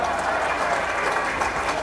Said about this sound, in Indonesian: Tepuk tangan untuk saya dulu.